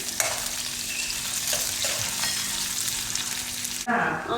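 Ginger, garlic and curry leaves fry in hot oil in a pan, giving a steady close sizzle with light crackles and a brief stirring scrape near the end.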